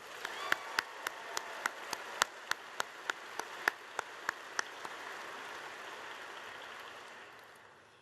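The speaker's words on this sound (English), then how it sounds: "Let's give her another round of applause." Applause from an audience honouring troops' families at RAF Mildenhall: a string of sharp, evenly spaced claps stands out first, then a softer wash of clapping that gradually fades.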